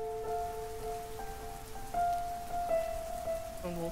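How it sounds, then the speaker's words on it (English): Rain falls steadily as a soft hiss in the video game Fist of the Forgotten, faint and even, under sustained tonal music notes that dominate the foreground. "I thought I was crying for a moment and it is just rain."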